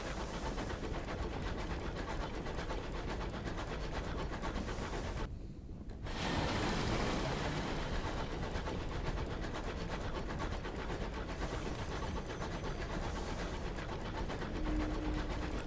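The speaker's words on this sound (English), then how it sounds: "A distant clamor of engine yards" Distant engine yards clamor in the video game Sunless Skies, a steady mechanical rumble with rattling, rail-like rubbing that runs throughout, breaks off briefly near the middle, then resumes at the same level.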